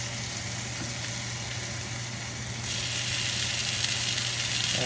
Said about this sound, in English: And frying them all together.